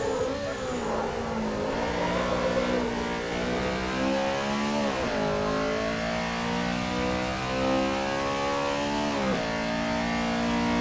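A 1986 Honda Civic racing around Cadwell Park in Assetto Corsa holds its engine at full throttle with a loud, steady, buzzing rev. Brief dips and climbs come with gear changes near 5 and 9 seconds.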